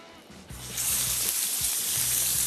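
Half a kilo of chicken mince hits five or six spoonfuls of oil on high heat, bursting into a loud, continuous sizzle after a quiet moment and holding steady to the end, with a low background hum underneath.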